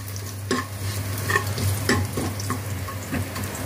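Garlic paste frying and being stirred in a pan over low gas, a steady soft sizzle with several scraping stirs of a spoon against the pan, close and fairly clear.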